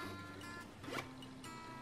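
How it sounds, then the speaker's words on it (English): A zipper on a thrifted dress being pulled, a short ripping zip with a quick burst near the middle and lighter scratchy movements around it, close and fairly quiet. "if you try to zip it up, the zipper stops"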